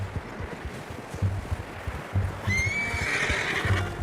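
A horse in the Red Dead Redemption 2 video game gives a loud whinny over its low, rhythmic hoof clops and soft outdoor ambience.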